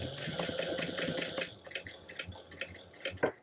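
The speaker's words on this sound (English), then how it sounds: "we are going to sew about 1/16 of an inch away up each side of the line" A sewing machine stitches a crossbody bag in quick, even bursts of close mechanical ticking, pausing briefly between runs.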